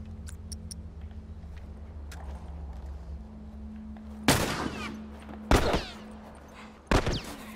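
Gunfire and sniper shots in The Last of Us video game: three sharp, loud shots ring out a second or so apart over a steady low rumble of background noise.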